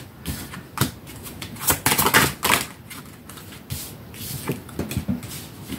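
Tarot cards are shuffled and flicked by hand in uneven bursts of crisp papery snaps and taps, up close, with no talking.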